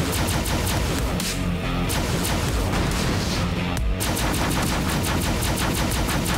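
Rapid gunfire in the shooter video game Protocol, dense bursts of automatic shots crackling almost continuously and loud, with only brief gaps between volleys and no speech.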